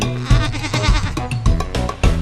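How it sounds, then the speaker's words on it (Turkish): A goat bleats repeatedly in a children's cartoon song, with wavering, nasal calls in quick succession over music and sung vocals. "Keçi gelir yanıma Hemen başlar meleşmeye"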